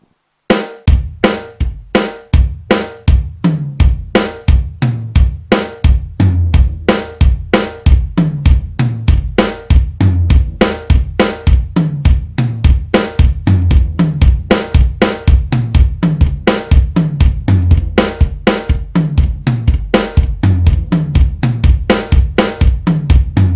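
A drum kit plays a steady pattern with the feet alternating right and left while the hands move randomly around the drums and cymbals, dense rapid hits close up and loud for over twenty seconds without speech.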